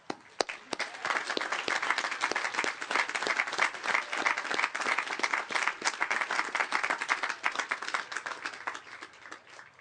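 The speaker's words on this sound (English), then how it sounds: "give them a huge round of applause" A crowd applauds steadily at a high school graduation ceremony, dense clapping that holds at an even level for several seconds before easing slightly at the end.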